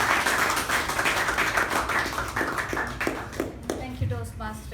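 Audience at a Toastmasters meeting clapping to welcome a Toastmaster, a round of scattered hand claps that thins out and fades, with a voice speaking near the end.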